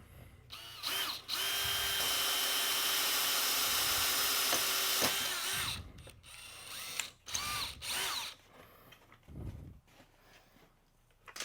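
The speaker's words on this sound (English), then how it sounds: "So we're going to drill our hole right here." A power drill whirs loudly for several seconds, boring through a car door panel of a 2011 Chevrolet Camaro, followed by shorter bursts of drilling and clicking tool noises.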